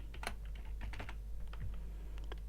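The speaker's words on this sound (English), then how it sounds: "Firstly, type the word that describes the rows. In this case, type year." Someone types a short word on a computer keyboard while entering a header in a LibreOffice Calc spreadsheet cell: a quick burst of close, crisp key clicks, about a dozen taps over a couple of seconds, with no voice.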